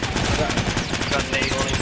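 Rapid automatic gunfire in the video game Fortnite, a dense loud burst of shots that runs almost without a break, with a voice faintly under it.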